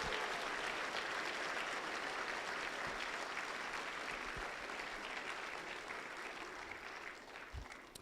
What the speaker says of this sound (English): Please give them all a round of applause so that they can hear you in the stands.